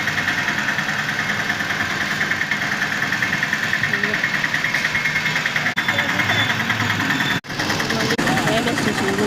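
An auto rickshaw engine idles in a steady, close, throbbing rattle, with voices talking over it and a couple of brief dropouts near the end.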